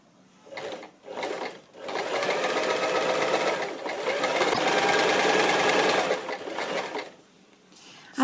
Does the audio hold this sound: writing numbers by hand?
no